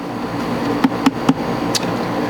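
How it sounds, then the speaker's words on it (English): Corrugated plastic gets riveted together, three quick close snapping pops in a row followed by one lighter click over a steady background hum. "I'll just take another piece of corrugated plastic this width and rivet it in"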